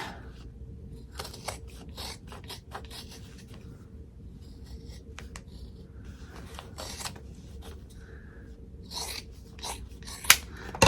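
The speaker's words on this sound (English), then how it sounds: "You're gonna need some heavy duty scissors because this is a lot of fabric." Repeated crunching snips of heavy scissors cutting through thick fabric, irregular and close, over a steady low background hum.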